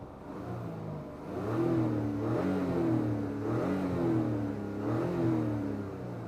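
A Mazda CX-60 inline-six engine accelerating, a smooth mid-pitched hum that rises and falls through several gear changes, heard from inside the cabin with no talk.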